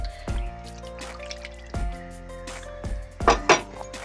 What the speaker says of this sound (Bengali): আর এই যে মশলাগুলো আছে এর মধ্যে এটা ঢেলে দিলাম।